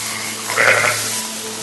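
A ewe that has just lambed gives a single short, moderately loud bleat while being walked to a temporary pen outdoors, over a steady low background hum.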